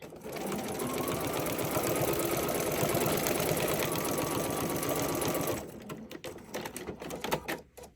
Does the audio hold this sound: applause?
no